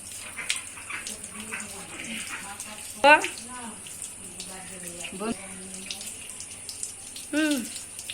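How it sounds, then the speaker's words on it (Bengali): Cut jackfruit pieces are rinsed under running water, giving a soft steady trickle with sporadic splashes and clinks of handling, while someone speaks quietly over it. "আপনারা যখন কাঁঠাল কাটবেন তখন এইভাবে কাটার পর ধুয়ে নেবেন"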